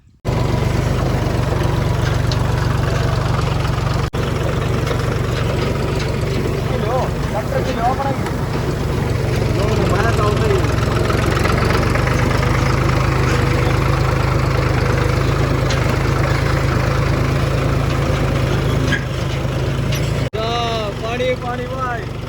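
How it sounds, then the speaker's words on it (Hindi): A 30-year-old Mahindra tractor idles in a rural Indian farm setting, its engine a steady loud drone, while someone talks over it. "अरे लो भाई, पुराना 30 साल पुराना ट्रैक्टर"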